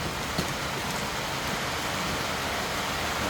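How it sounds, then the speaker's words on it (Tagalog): Heavy rain pours down outdoors behind a house, a dense, steady hiss of falling water that stays loud and unbroken throughout with no other sounds standing out. "Lakas na ang ulan."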